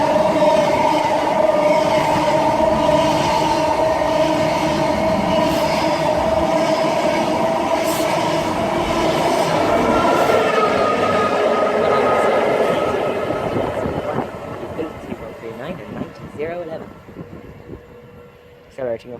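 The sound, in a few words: train accelerating away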